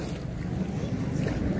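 A bangka boat passes on open water near a fishing outing, giving a steady low rumble mixed with wind buffeting the microphone throughout.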